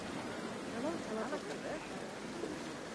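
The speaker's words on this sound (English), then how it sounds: "People don't care that it's raining." Rain falls over a theme park in the video game Planet Coaster 2, a soft, steady hiss of drizzle heard faintly, with brief chirping tones on top.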